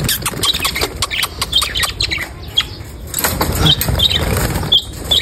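Green ring-necked parakeet chicks and other birds on a rooftop setup, with repeated sharp squawks and chirps over wing flutters and clatter, fairly close and busy throughout.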